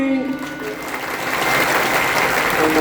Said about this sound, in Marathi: एकच टाळी झाली